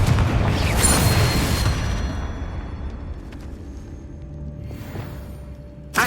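Bombarda and Confringo spells go off in Hogwarts Legacy as a loud, rumbling blast that fades slowly, with a faint second burst near the end and no talk.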